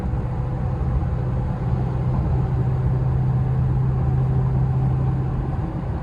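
2022 Toyota Tacoma SR with the 2.7L engine under a bit more throttle while climbing a long incline: a steady low droning hum with a sustained tone, heard from inside the cab, fairly quiet and unchanging.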